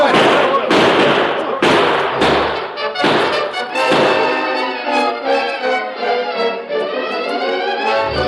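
Staged gunfire in an old western radio drama, a rapid burst of thumping shots in the first seconds, then fading under a swelling orchestral music cue.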